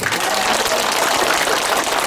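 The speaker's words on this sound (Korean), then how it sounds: "감사의 의미로 다시 한번 시장님께 큰 박수 부탁드립니다" Audience applause for the mayor of Hwaseong at a citizens' dialogue event, a steady dense wash of many hands clapping at once, filling the room evenly throughout with no break.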